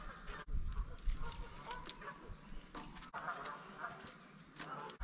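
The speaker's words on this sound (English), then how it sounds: "I got a feeling those screaming birds are going to kind of affect my audio a little bit." Agitated birds, apparently geese or ducks, honk and squawk repeatedly at a campsite, quite faint and distant over a low background rumble.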